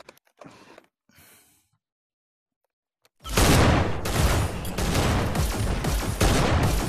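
Rapid, loud gunfire from the VR shooter Hyper Dash bursts in after a few faint taps and near silence, continuing as dense, sustained volleys to the end.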